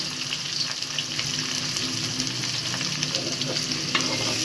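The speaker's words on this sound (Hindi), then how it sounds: "ये इसके अंदर मैंने प्याज डाल दिए ब्राउन के लिए, ब्राउन होने के लिए।" Onions frying in a spoonful of oil while being browned for bhuna qeema, a steady close sizzle with scraping stirs running throughout, no voices.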